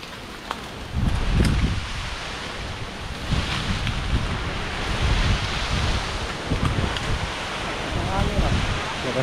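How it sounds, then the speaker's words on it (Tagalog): Strong wind batters the microphone outdoors near a wartime Japanese cave and cemetery, a loud rushing roar in uneven gusts with low buffeting thumps, steady throughout. "Lakas ang hangin, guys."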